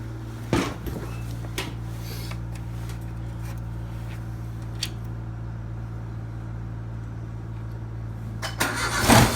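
A vehicle engine cold starts with a brief cranking burst and catches at once, then holds a steady, low, humming idle up close before another short burst at the end.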